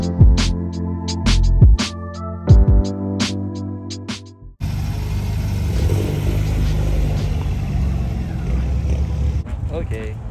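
Supercharged Subaru BRZ at a cars and coffee meet, engine rumbling and revving loudly at close range in the second half, following sharp clicking and clacking sounds near the start, with people talking.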